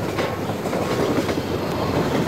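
A train rolls past in Half-Life 2, a steady, loud rumble with faint rail clatter filling the moment without pause.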